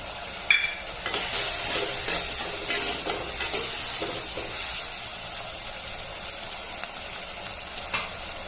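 Peas and capsicum frying and being stirred in a pot for handi undhiyu, a steady sizzle with scraping stir strokes and occasional clinks, close and moderately loud with no talking.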